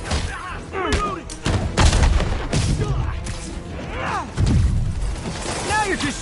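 Gunfire in the Marvel's Spider-Man video game, bursts of shots and impacts mixed with game effects, while voices shout over the action.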